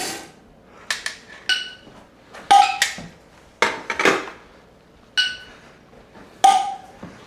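Glass canning jars ping and clink as their lids seal after pressure canning, a series of sharp bright metallic pops scattered irregularly over several seconds, close by in a quiet kitchen.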